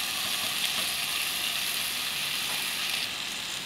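Mullet fish pre-frying in a pan gives off a loud, steady, close sizzle that holds unbroken throughout.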